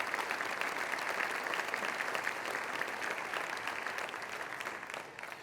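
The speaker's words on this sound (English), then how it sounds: "I think the management represents a round of applause for that" A large audience at an inaugural session breaks into steady, sustained applause, a dense even clatter of many hands that holds for several seconds before tapering slightly at the end, with no voices over it.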